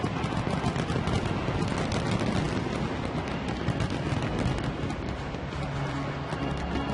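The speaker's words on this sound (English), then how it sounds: "Good fireworks." Fireworks bursting over a baseball stadium on a July 4th celebration night, a dense continuous barrage of rapid crackling pops and booms at moderate distance, steady throughout with no pauses.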